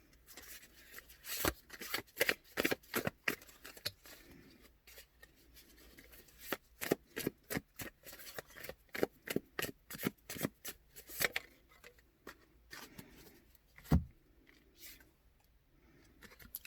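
Tarot cards being shuffled by hand, bursts of crisp riffling and slapping in uneven clusters, fairly close and alone, with brief pauses between shuffles.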